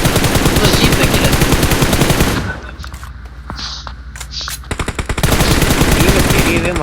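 Rapid automatic gunfire from the battle royale game BGMI crackles loud and close in sustained bursts, dropping away briefly mid-clip before resuming at full intensity.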